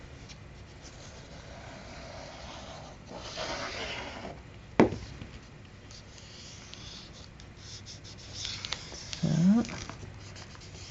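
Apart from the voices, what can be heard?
burnishing paper album hinge with a tool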